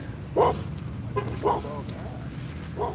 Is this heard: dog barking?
yes